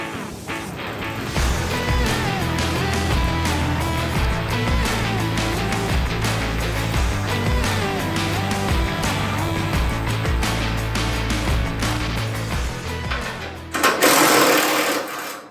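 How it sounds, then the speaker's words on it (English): A Makita air compressor runs steadily and loudly with a continuous, rapid mechanical chugging throughout, ending in a brief burst of hissing air near the end. "All right, so what we need to do on this compressor is start it"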